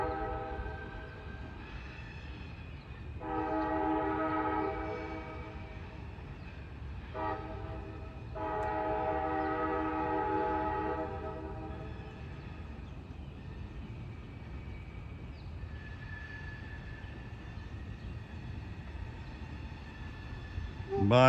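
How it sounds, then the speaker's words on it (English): Conrail Shared Assets CA-20 westbound freight train passing through Moorestown, New Jersey, with long horn blasts over a steady rolling rumble at moderate distance, fading toward the end. "Conrail Shared Assets CA-20 westbound."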